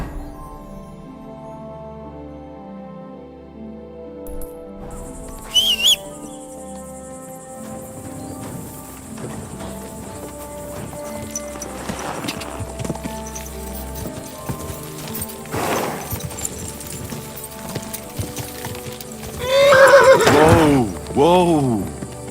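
Horse neighing and whinnying with clip-clop hooves in the medieval video game Kingdom Come: Deliverance 2, over a music score, with a loud whinny near the end and spoken lines in between.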